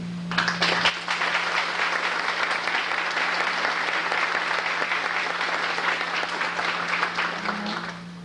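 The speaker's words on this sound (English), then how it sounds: "give a round of applause, Mrs. Stephanie Snyder, our counselor at the school" A Chamber of Commerce banquet audience gives a sustained round of applause, a dense and even wash of many hands clapping for about seven seconds over a steady hum, then tapering off.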